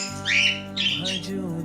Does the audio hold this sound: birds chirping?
yes